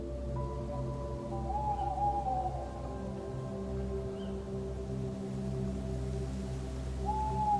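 An owl hoots at night, a few low, slow calls drifting through a steady wash of rain-like ambient noise and a low drone, with a couple of brief higher tones.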